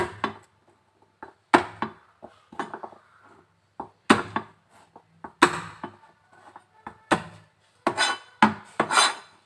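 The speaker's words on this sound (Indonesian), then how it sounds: "Ini kita cincang halus." Ingredients being finely chopped with a knife on a board, a series of sharp, close knocks in irregular clusters with short pauses, growing quicker toward the end.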